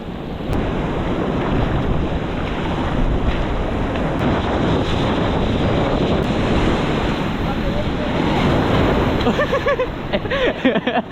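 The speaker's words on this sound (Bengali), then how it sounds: "ঢেউগুলো দেখো যেমন ঢেউ দিচ্ছে" Sea waves break and wash up on the beach at Puri, a loud, continuous roaring surge mixed with heavy wind buffeting the microphone, close and unbroken throughout, with faint voices near the end.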